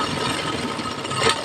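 A sewing machine stitches a pocket onto a kurti, giving a brief run of rapid, even mechanical clatter that stays steady and close, with no speech.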